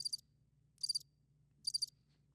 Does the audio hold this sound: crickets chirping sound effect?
yes